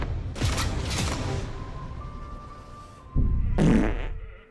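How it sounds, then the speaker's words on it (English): Two loud, sputtering farts sound close by, one at the start and a second, deeper one near the end, with a faint hum between them. "Which one of you guys just farted?"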